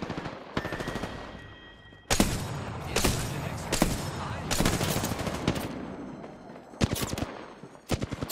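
Rapid bursts of automatic gunfire from enemy teams in a ranked Apex Legends match on PS5, close and loud, arriving in repeated volleys with short gaps and sharp single cracks toward the end.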